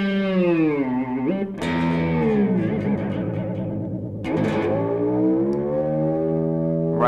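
An electric guitar with a wild rock effect rings out in loud, sustained, distorted notes that bend and waver in pitch, with a brief break before another long, swooping chord.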